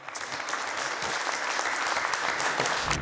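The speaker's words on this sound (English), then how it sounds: "Round of applause." A startup pitch-event audience gives a founder a round of applause: a brief, dense burst of clapping that stays steady throughout and stands alone without speech.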